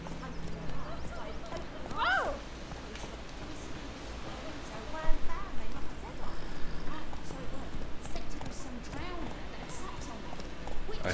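Horse hooves clip-clopping at a run in The Witcher 3 video game, a steady muffled beat held under game ambience and talk throughout.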